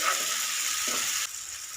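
Tomatoes frying in a pan for a chicken fry masala, a brief close hissing sizzle that drops off abruptly partway, with no speech.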